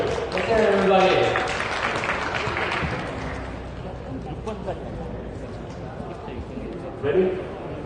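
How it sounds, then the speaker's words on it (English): Audience at a drone racing demonstration applauds, a loud burst of clapping and cheers that fades into scattered clapping and voices, with a short swell near the end. "Let's give them big hands and cheer them up."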